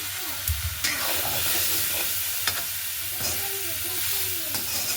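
Pieces of breadfruit go into a pan of spices frying in oil and are stirred, producing a loud, continuous sizzle and steamy hiss with scraping stirs and a few sharp clatters throughout.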